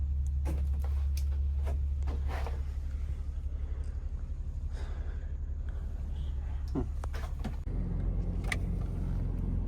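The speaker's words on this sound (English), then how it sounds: "Now it's getting towed away." A bus being towed away, heard as a steady low engine and road rumble that runs throughout, with scattered clicks and knocks and a slight shift in the drone near the end, up close with no clear talk.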